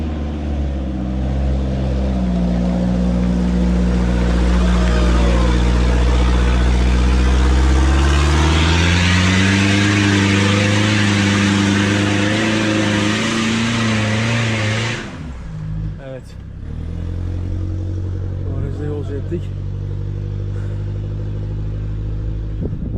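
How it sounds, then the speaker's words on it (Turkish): An off-road vehicle engine drones loudly and close on a rough wilderness trail, its pitch rising and shifting as it approaches, then dipping sharply before settling into a steady rumble. "Evet, diğer araç geliyor."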